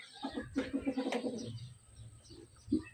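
A pigeon with one eye that keeps closing coos in a few soft, throaty pulses, close by among roosters and other pigeons, with a brief rustle and another short coo near the end.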